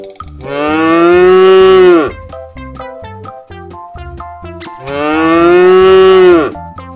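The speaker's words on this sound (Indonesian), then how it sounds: "Ini adalah suara binatang ternak sapi." Two long, loud moos from a nearby farm cow, separated by a few seconds of near quiet.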